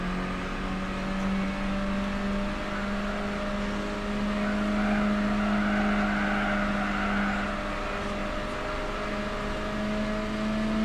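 Engine of an Isuzu race car in Gran Turismo 4, a steady, droning hum held at nearly constant pitch, with the tone rising slightly, heard alone without talk.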